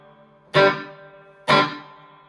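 Two open strums on an electric guitar run through a Boss ME-90 with spring reverb into a Roland Jazz Chorus amp. Each bright chord rings out and decays with a reverb tail over a faint hum, about a second apart.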